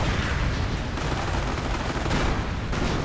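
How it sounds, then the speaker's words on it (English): A Quad 50 anti-aircraft gun fires in the Company of Heroes 2 video game, dense rapid bursts of gunfire against a loud, continuous battle din. "Quad 50 shooting at the Grenadiers."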